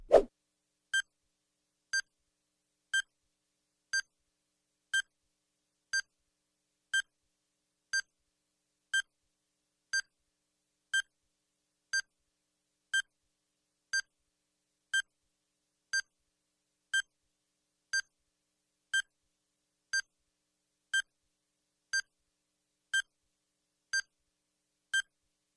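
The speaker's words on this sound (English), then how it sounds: "Timer starts now." A countdown timer beeps steadily about once per second for roughly 25 seconds, each short electronic tone clear and evenly spaced against silence.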